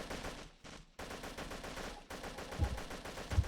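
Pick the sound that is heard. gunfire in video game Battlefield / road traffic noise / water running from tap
gunfire in video game Battlefield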